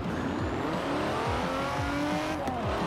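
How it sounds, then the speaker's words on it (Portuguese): The combustion engine of the Quartz Regalia car in the racing game Forza Horizon 4 roars steadily and loud throughout, with a continuous revving drone and rising harmonic sweeps as it accelerates. "o carro tem um motor a combustão"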